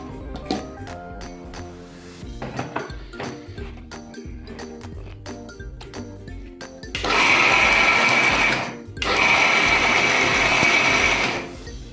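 A mixer grinder jar blends cooled cooked ingredients with a little water into a smooth paste for mutter paneer, two loud whirring bursts separated by a short pause, following softer clinks and handling noises.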